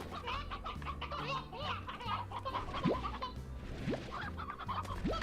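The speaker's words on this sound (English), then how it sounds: "Oh, they have a couple of roosters now." Roosters clucking in the video game Slime Rancher, a busy run of game clucks and chirps with a few rising calls over a steady backdrop of game music.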